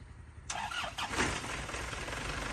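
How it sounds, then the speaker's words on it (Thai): An engine cranks and catches with a quick burst, then settles into a low, steady idle, heard from fairly close. "เสียงจะเป็นยังไงครับสตาร์ทเครื่องหน่อย"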